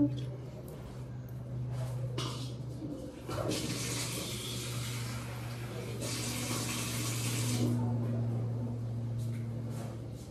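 A little water pours into pickle being mixed in a kitchen, making a brief rushing splash near the middle over a low steady hum.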